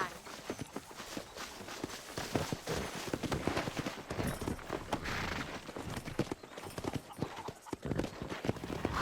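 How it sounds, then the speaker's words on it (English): Hooves of wild horses galloping across open ground in the Red Dead Redemption video game, a dense, continuous drumming clatter at moderate loudness with game ambience underneath. "That ranch hand said there's a pack of wild horses nearby."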